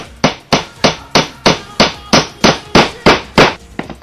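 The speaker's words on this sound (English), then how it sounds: "let's hammer that down" A hammer strikes a dice tower ramp being built, about a dozen loud, sharp blows in a steady rhythm, each ringing briefly before the next, with no talking.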